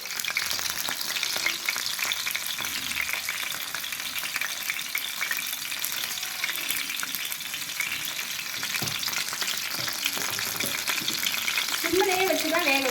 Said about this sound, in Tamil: மீன் நல்லா ஃப்ரை ஆகிக்கிட்டு இருக்கு.